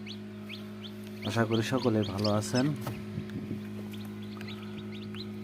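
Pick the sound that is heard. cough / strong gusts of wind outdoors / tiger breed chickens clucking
tiger breed chickens clucking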